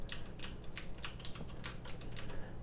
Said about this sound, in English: I typically use a mechanical keyboard